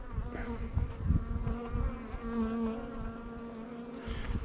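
Honey bees buzz steadily around an open beehive during an inspection, a close, continuous droning hum with no voices.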